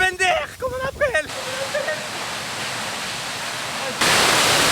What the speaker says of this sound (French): C'est la cascade de Pender, comme on appelle.